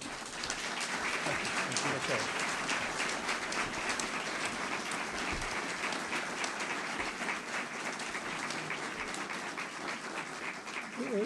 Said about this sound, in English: How about a round of applause for Mr. Jeff Hurd of the WAC?